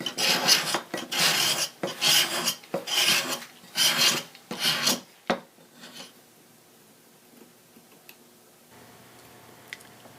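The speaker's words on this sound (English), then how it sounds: "I've switched over to this old cabinet scraper. It's slower, but it's safer." An old hand cabinet scraper is drawn across wood on a guitulcimer build, making about six loud, close, rasping strokes in a steady rhythm before the scraping stops and a quiet room remains.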